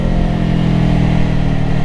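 A 2024 Kawasaki Ninja 500 motorcycle engine drones steadily at a constant speed, loud and close, with a low hum and road rumble and no voices.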